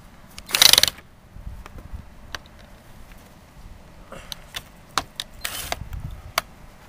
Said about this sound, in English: all we have to do now is just screw these down